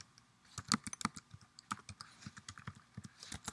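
Fingers type a username on a computer keyboard in a quick, uneven run of close, crisp key clicks that continue for several seconds with no talking.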